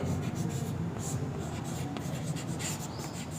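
A pen scratches steadily across paper while a math lesson is written out, a continuous close scraping with short strokes and no pauses.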